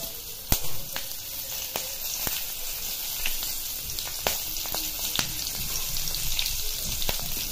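Green chilies frying in oil over a low gas flame give a steady close sizzle, with scattered sharp crackles and pops throughout and no talk.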